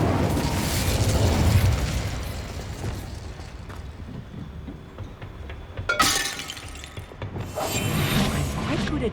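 The Incendio fire spell is cast in Hogwarts Legacy on PC, giving a loud burst with crackling and shattering that rises again near the end and then trails off.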